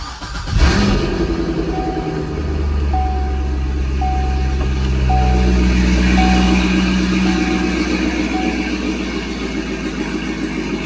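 A C6 Corvette engine with Corsa Xtreme exhaust and gutted catalytic converters cranks and fires up with a sharp burst, then settles into a loud, steady rumbling idle with a rhythmic electronic beeping chiming along.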